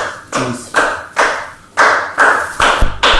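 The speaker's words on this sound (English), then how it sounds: "So this kind of a structure would be usually clapped to aksak pieces." Hands clap out the beat of an aksak rhythm like those heard at Turkish weddings, with about eight close, crisp claps in uneven long-short spacing, alone and without talk.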